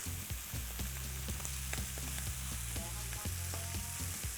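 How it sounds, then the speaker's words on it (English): Chateaubriand beef searing in a hot pan, a loud continuous sizzle and spatter with scattered crackles and a few light knocks of utensils, steady throughout and close by, no voices. "the sound that's happening in that pan, if you've had a Chateau box from us before, you'll know that that's called the Maillard reactions"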